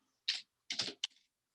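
Typing on a computer keyboard in three short bursts of soft key clicks, the last a brief tap followed by a few faint strokes, close and quiet against silence.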